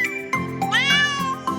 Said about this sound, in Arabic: القطة بتقول ميو ميو.